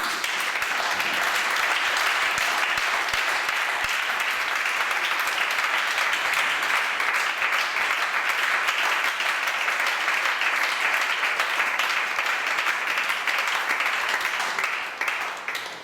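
A church congregation applauds the Lord during a service, sustaining dense, even clapping for about sixteen seconds before it starts to taper off at the very end.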